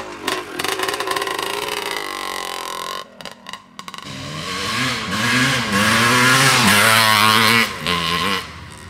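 A 1977 Suzuki RM250 vintage two-stroke motorcycle engine crackles loudly close by, cuts out briefly, then revs hard in rising and falling pulls before easing off.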